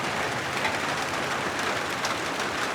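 Steady rain falls without letup in a rural Thai village, a dense even hiss of drops with no voices and no gaps.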